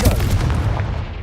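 A Confringo blasting spell goes off in Hogwarts Legacy, a single loud, low boom that rolls and fades over about a second.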